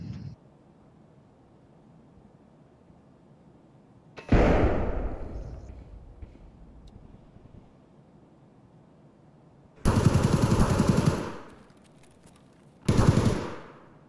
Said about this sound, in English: Shooting all on my side.